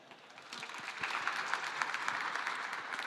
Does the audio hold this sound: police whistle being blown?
no